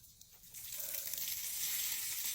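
Rainwater poured from an old blender pitcher over semi-freeform locs makes a steady, close splashing hiss that swells and keeps running for a couple of seconds.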